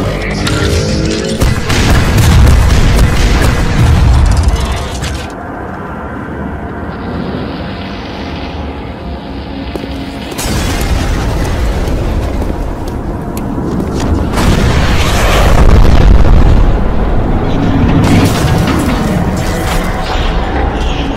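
A weapon fires in a Skibidi Toilet animation, setting off loud, deep booming blasts with rumbling mechanical noise around them. The sound swells in heavy waves across a long stretch, with a quieter droning gap in the middle.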